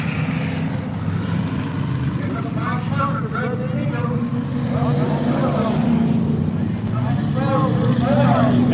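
Race cars circle the oval at Electric City Speedway, their engines blending into a steady, loud roar that holds for the whole stretch, with a commentator talking over it.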